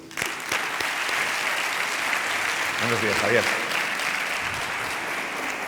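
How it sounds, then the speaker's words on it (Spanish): An audience at a diabetes conference applauds warmly to welcome a doctor to the stage; steady clapping from many people continues throughout while a voice briefly speaks over it midway. "Quiero que recibáis con el mejor aplauso y el más cálido al doctor Javier Ampudia."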